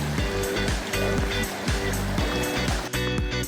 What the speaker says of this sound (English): I've got this water crossing